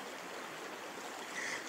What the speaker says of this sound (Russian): здесь Ая речка и есть